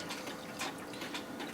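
Liquid pours steadily into an ultrasonic cleaner tank being filled for cleaning antique Seth Thomas clock parts, a faint, continuous watery splashing rush.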